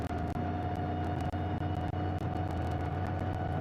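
Damaged race car limping back to the garage during the Shanghai 8 Hours, heard onboard as a steady low droning engine hum with brief clicks and dips, moderately loud and alone.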